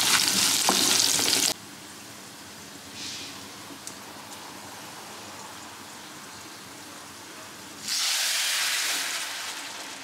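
Bay leaf, dried chili, garlic and onion tempering sizzle loudly into dal, with a bright frying hiss at the start that drops to a faint simmer before a second loud burst of sizzling near the end.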